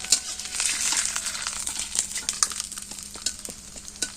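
An egg frying in a pan gives a bright, steady sizzle with scattered crackles and spits, close and moderately loud, with no voices over it.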